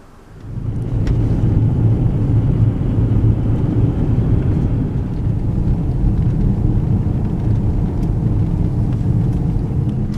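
A vehicle driving through a dry desert wash gives a close, steady low engine rumble with tyre and road noise. It rises quickly in the first second and then holds a constant drone with no talking.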